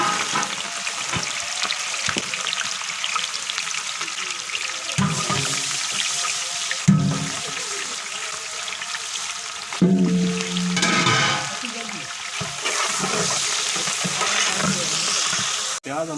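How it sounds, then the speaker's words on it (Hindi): Onions fry in hot oil for beef yakhni pulao, a steady broadband sizzle running throughout with occasional stirring scrapes and clinks, fairly close and continuous, with no talking. "अब इसमें हम प्याज डालेंगे और अच्छी तरह ब्राउन करेंगे।"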